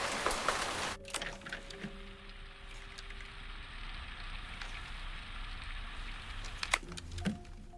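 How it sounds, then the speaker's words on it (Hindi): Food sizzling and crackling in a pan in a drama scene, a steady hiss like falling rain that holds through the clip, with a few louder pops and clicks near the start and end. "ये आवाज खाना पकने की है।"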